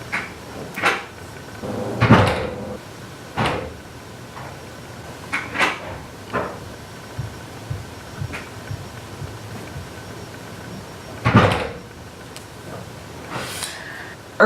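Doors slam and objects bang in neighbouring rooms of a college dorm, with irregular muffled knocks and thumps scattered across a quiet background, several louder than the rest.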